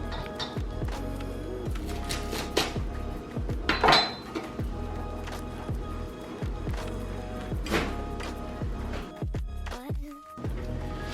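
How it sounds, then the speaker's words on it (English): A knife cuts asparagus spears to length on a board, with repeated close, sharp chops and clacks at an uneven rhythm and one louder clatter partway through. "I'll cut them all at that length."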